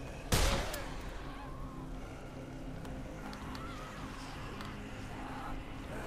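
A single loud gunshot from a gun in the zombie game Dead Island, a sharp close crack that rings out over a steady rumbling game background with no other shots.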